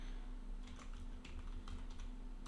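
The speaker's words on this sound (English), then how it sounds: "For that, we are typing" Computer keyboard keys being typed on in quick, irregular bursts of clicks, close and fairly quiet over a steady low electrical hum, with no talking.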